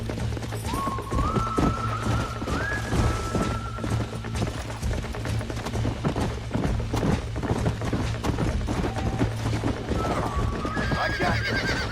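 A wild horse in Red Dead Redemption whinnies several times over a steady clip-clop of galloping hooves, loud and close, with game music underneath.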